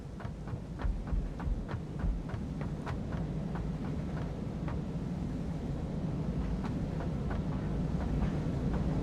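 A train in the Satisfactory video game rolls to a stop at a station, giving a steady low rumble with repeated rhythmic clicks and clanks, moderately loud and continuous throughout.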